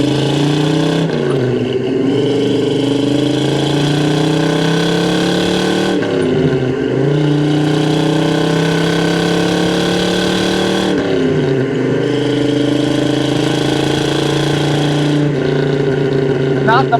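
A restored 1969 Chevrolet Chevelle with a 454 V8 roars through repeated gear pulls on a test drive, the engine note climbing steadily then dropping at each shift, loud and continuous inside the cabin.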